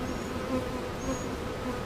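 Honeybees humming in an open hive during a mid-June inspection, a dense, steady buzz that fills the whole stretch, with a few individual bees droning close by and no talk.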